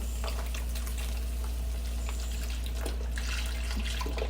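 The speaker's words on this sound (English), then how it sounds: "Now, I'm going to add my beef stock, my bone broth." Beef stock bone broth pours from a 32-ounce carton into a cooking pot for beef bourguignon, a steady close liquid splash and trickle running for a few seconds.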